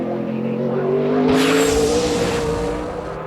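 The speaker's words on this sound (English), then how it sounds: "that car just squatted and took off from turn 4" A NASCAR Nextel Cup race car powers out of turn 4, its engine note rising steadily into a loud, close roar with a brief tire scrub.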